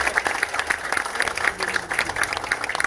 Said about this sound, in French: applaudissements pour Tim Maradona.